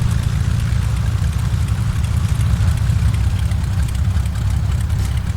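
A Cessna 185F piston engine idles steadily while taxiing in Microsoft Flight Simulator X, a loud, even low rumble with a fast regular throb that holds unchanged throughout, with no voices.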